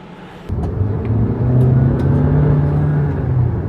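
A VW California e-Hybrid 4Motion camper van drives past with a steady, fairly loud engine drone and road rumble that swells slightly as it passes, no voices.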